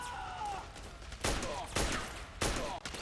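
Gunfire from the Metal Gear Solid 4: Guns of the Patriots video game, three loud sharp bursts roughly half a second apart, each followed by a short decay, over a steady low background hum.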